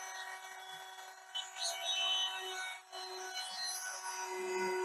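A Wen 23190 budget high-speed rotary tool runs with a thin, steady whine and a grinding, rasping buzz that wavers slightly, fairly faint, with a brief dip partway.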